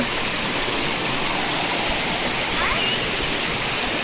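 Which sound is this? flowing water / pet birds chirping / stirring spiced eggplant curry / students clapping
flowing water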